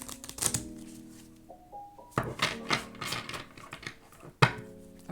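A Botanica Tarot deck of cardstock cards shuffled from the side in close, quick bursts: clustered riffling snaps and soft thumps, pausing briefly before resuming, with a faint tonal hum underneath.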